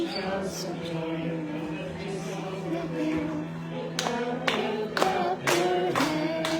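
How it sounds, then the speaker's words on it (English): A church congregation claps along during a Pentecost Sunday worship song: a run of sharp, fairly loud hand claps in the last few seconds over sustained music and singing. "Clap your hands."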